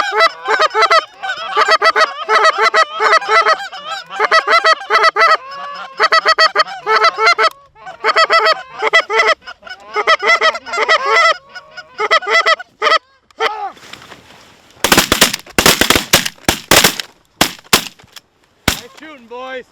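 Geese honking in a loud, busy chorus of overlapping calls during a goose hunt, close and continuous, then sharp shotgun blasts near the end as the flock comes in; no talk is heard.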